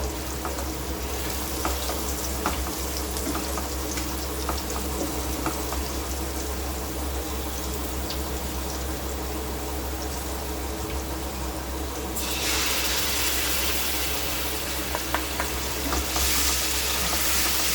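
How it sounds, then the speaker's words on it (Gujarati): Grated tomato going into frying spices in a pan for Gujarati dhokli nu shak, a dense, steady sizzle with a low hum underneath, growing brighter and hissier near the end, with a few faint utensil clicks and no talking. "મેં ટામેટું ખમણી લીધું છે એ આપણે એડ કરી દઈએ."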